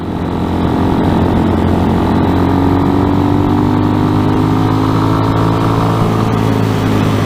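A 2020 RPS Hawk 250 Enduro motorcycle rides along a road, its single engine droning loud and close with a steady throb and gentle rises in pitch as the rider holds speed, wind noise underneath and nobody speaking.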